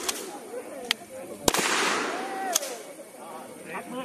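Gunshots ring out during a firing drill for village volunteer defence members in Waeng, Narathiwat: a few sharp cracks, one louder than the rest, over a steady outdoor hiss and faint background voices.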